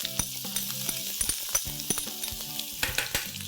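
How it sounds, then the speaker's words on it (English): Half a teaspoon of cumin seeds splutters in hot oil, giving sharp scattered pops and crackles over a steady close sizzle, with nobody talking. "I'm going to splutter half a teaspoon of cumin seeds"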